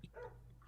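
Several pet dogs bark at a passing ambulance indoors, a short burst of yapping barks over a steady low hum.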